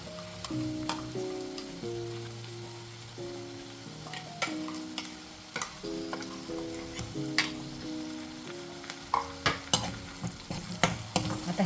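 Green masala paste being fried in oil for a spicy green-masala bean curry, stirred with steady sizzling and sharp clicks of a spoon striking the pan throughout, with a low tonal hum underneath.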